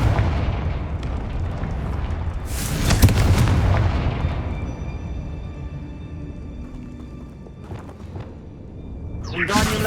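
In the video game Hogwarts Legacy, the Confringo blasting spell bursts into a loud, booming explosion midway through, set among rumbling battle noise and other scattered spell impacts.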